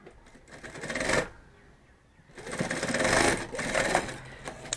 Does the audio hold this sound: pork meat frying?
no